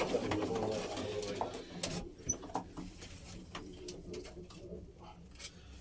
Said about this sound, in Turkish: Kuşlar da bunlar.